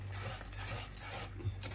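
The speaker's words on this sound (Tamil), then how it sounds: "இதை மாதிரி கிண்டிக்கிட்டே சிம்மில் தான் வச்சுக்கணும்" Fenugreek kali is stirred in a pot over a low flame: soft, repeated scraping strokes of a spoon against the pot, heard close and fairly quiet, with no voices.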